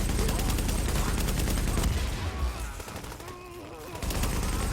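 Sustained rapid automatic gunfire from the video game Tom Clancy's The Division, loud and dense, with bursts firing continuously and easing briefly midway before resuming at full intensity.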